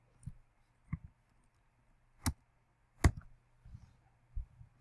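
Mouse clicks in statistics software, a handful of sharp, isolated taps spaced irregularly at close range against near silence.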